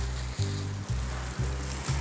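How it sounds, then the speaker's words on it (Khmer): Milk boiling in a pot for a bird's nest papaya dessert makes a loud, close, steady bubbling hiss, broken by regular soft dips about every half second as the surface churns, with no talking. "ឥឡូវឃើញថាទឹកដោះគោយើងបានពុះហើយ"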